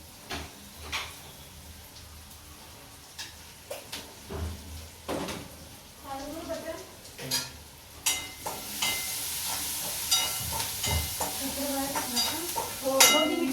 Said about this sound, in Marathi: कांदा चांगला परतून देते मीठ साखर टाकून देते